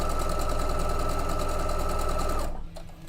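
A sewing machine runs at a fast, even stitching rhythm, a steady mechanical whir and tick close by that stops abruptly near the end, leaving a quieter hum.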